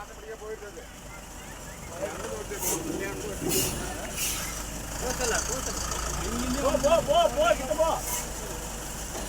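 A vehicle engine rumbles steadily while creeping slowly past a lone wild elephant, a low continuous drone under excited shouting voices throughout.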